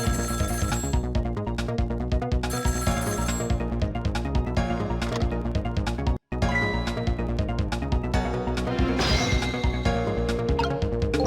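A telephone in the Ghost Trick video game rings insistently in rapid repeated bursts with a brief break midway, loud and continuous over layered game music and effects, with no speech.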